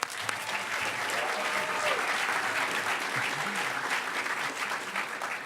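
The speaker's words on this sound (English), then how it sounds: "Give him a round of applause." A hacker conference crowd at closing ceremonies gives sustained applause, a steady even wash of many hands clapping at moderate distance with faint crowd noise beneath.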